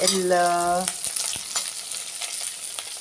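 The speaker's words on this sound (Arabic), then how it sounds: "ضفنا كمان قرنين الفلفل كده عشان ان احنا نشوحهم مع اللحمة بتاعتنا" Peppers sautéing in a pot with meat for a one-pot pasta dish, a loud steady sizzle with stirring scrapes throughout, preceded by a short tonal squeal at the start.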